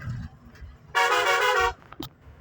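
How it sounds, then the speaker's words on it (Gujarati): A bus horn gives one loud, sustained honk of under a second, followed by a brief faint toot, against a quiet background. "જો મિત્રો હોરન કેવો છે મસ્ત"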